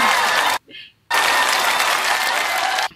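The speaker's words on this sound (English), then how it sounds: "Give me a round of applause." A loud round of applause that breaks off for about half a second, then resumes dense and steady for roughly two more seconds before stopping.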